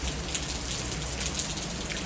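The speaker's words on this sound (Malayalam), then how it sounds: "മഴ ഞാൻ കാണിച്ചു തരാം. നല്ല മഴയുണ്ട്." Heavy rain pours down in a steady, dense hiss with scattered droplet patters, continuous and fairly quiet with no voices.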